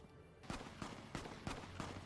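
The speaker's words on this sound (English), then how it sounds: "A bunch of gunfire going off." Gunfire in the video game Fallout: New Vegas crackles in a rapid series of about six sharp shots, evenly spaced and moderately loud, with no talk over it.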